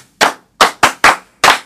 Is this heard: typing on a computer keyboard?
no